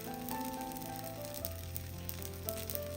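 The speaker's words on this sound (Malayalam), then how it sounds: "അപ്പോൾ കുറച്ച് എണ്ണ ഒന്ന് തവയിൽ ബ്രഷ് ചെയ്ത് കൊടുത്തിട്ടുണ്ട്. ഈ തവയിലേക്ക് അങ്ങ് ഇട്ട് കൊടുക്കാം." Paratha frying on a hot tava brushed with oil, giving a steady, close sizzle that runs without pause under a faint background hum.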